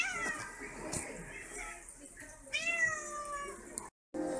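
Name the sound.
cat meowing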